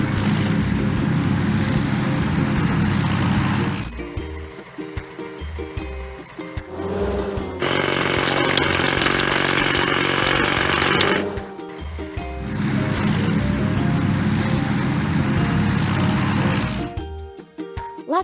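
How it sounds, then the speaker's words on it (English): Hydraulic hammer breaking rocks on a toy construction site, heard as loud sustained bursts of pounding and rattling that stop and start in roughly three long stretches, with mechanical noise filling the gaps between them. "Hydraulic hammer."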